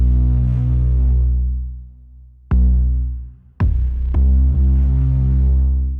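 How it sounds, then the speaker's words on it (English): Deep, sustained Spectrasonics Trilian Loch Ness Baster synth bass plays on its own, a thick throbbing low tone holding long notes with a couple of abrupt changes and clicky attacks between them. "And then the bass on its own just sounds like this."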